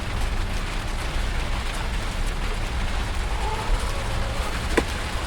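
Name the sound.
heavy rain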